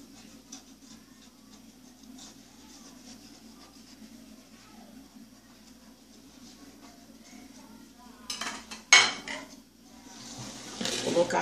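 A hot cornmeal cake, fresh from the oven, is turned out of its baking pan. Low kitchen hum gives way to a few sharp metallic clanks and knocks of the pan near the end.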